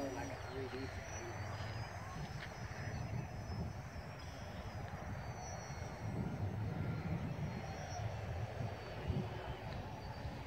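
A model biplane in flight gives a steady, continuous buzzing drone across a wide band of noise, with no clear breaks or gaps.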